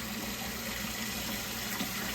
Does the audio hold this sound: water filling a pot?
yes